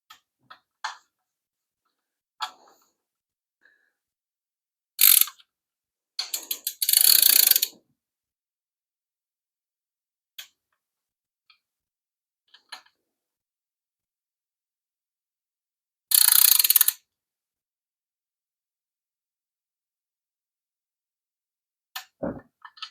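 A torque wrench ratchets on valve cover bolts of a 5.7 Hemi in a 1975 Plymouth Duster build, with short bursts of rapid metallic clicking separated by quiet pauses and scattered light taps.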